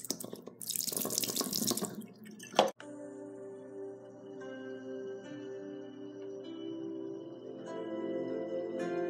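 Water running from a tap into a sink: a loud gush at first, then a steadier stream with resonant filling tones, close by and alone.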